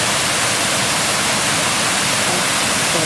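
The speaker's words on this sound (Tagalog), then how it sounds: "first tier of the Erawan Waterfalls" Rushing water from the first tier of the Erawan Waterfalls in Thailand fills the air as a dense, continuous, loud roar with no voices over it.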